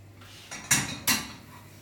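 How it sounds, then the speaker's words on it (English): A small metal pan is pulled out and handled in a kitchen, giving two sharp clanks of metal on metal against a quiet background. "So we're going to get our pan."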